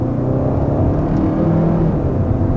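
A 2021 Kia K5 with a 1.6-liter turbocharged four-cylinder accelerating, heard as a loud, steady engine drone and whir from inside the car, with no talk over it.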